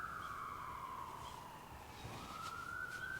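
An emergency vehicle siren passes outside, a steady wailing tone that rises and falls as it goes by, with low traffic rumble beneath and no talking.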